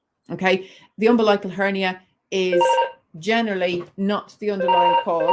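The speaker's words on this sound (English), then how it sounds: "Sorry for the phone. I knew it was going to ring when I got in here." A telephone rings indoors beneath a steady stream of close speech about a baby's health, its tone faint and partly buried by the talking voice.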